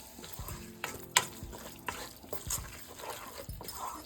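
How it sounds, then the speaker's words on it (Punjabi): Kashmiri red chili is stirred into frying paneer lababdar masala, soft sizzling broken by irregular spoon knocks and scrapes against the pan, close but quiet. "ਨਾਲ ਹੀ ਕਸ਼ਮੀਰੀ ਲਾਲ ਮਿਰਚ ਇਹਨਾਂ ਨੂੰ ਹਿਲਾ ਕੇ ਮਿਕਸ ਕਰ ਲੈਣਾ"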